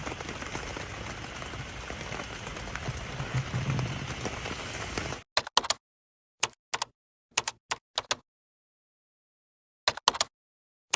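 Heavy rain falls during a rainy-season trip with flooding, a dense, steady, loud hiss that lasts about five seconds and then cuts off abruptly, leaving a few sparse clicks and taps.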